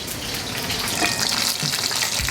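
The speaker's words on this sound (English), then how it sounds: "I can hear the nice sizzle on the onions." Onions fry in a hot pan with a steady, broad hiss and crackle that holds evenly throughout, close up and with no one talking.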